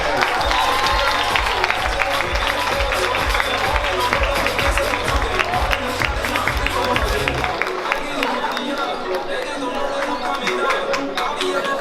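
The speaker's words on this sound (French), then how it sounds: "Sous vos applaudissements s'il vous plaît" A live audience at a French Instagram influencer event applauds and cheers guests arriving on stage, a dense wash of clapping and crowd noise over a thumping beat of music that drops out partway through.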